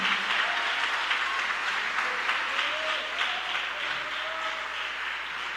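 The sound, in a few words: congregation clapping hands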